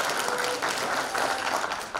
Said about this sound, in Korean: 이 청년의 미래에 뜨거운 박수 한번 보내주시기 바랍니다.